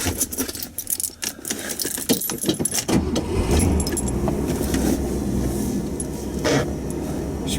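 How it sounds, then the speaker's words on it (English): A 1979 Ford Fairmont heard from inside: a burst of jangling keys, then a steady, fairly loud rumble of engine and road noise as the car drives along. "Let's go out for a drive, and you can experience what it's like to be in the 1979 Ford Fairmont"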